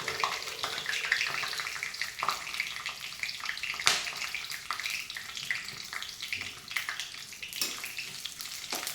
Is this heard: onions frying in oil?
yes